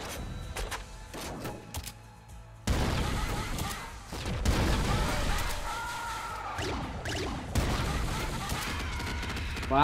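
A fire shotgun in the Nuclear Throne video game blasts in rapid, loud bursts of gunfire with thumping impacts, layered with busy game sound effects that carry on continuously.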